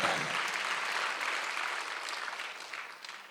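A church congregation clapping during a Sunday worship service, a dense, even burst of hand claps that starts full and slowly thins out toward the end, with no voices over it.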